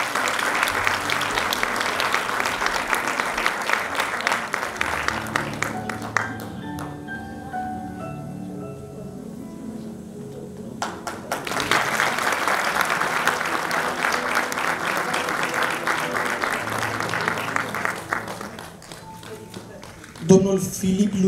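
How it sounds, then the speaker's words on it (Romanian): Audience applause at a school centenary ceremony on stage, a broad steady clapping wash that dips briefly mid-way, with music and voices underneath, then surges again near the end. "Aplauze, vă rog."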